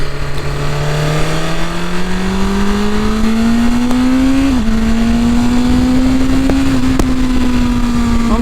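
A motorcycle-like vehicle on a Varanasi highway pulls hard in first gear, its engine note climbing steadily and loudly with a brief dip at a shift point, set against constant heavy wind rush.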